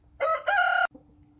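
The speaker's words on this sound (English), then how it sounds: "the saddled hen. She hates it, I can tell." A hen wearing a saddle lets out one close, loud, two-part squawk lasting under a second, followed by near silence.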